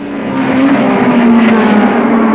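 Formula One racing cars circle the classic Monaco circuit, a loud, steady engine whine rising slightly in pitch as a car drives past, alone with no voices.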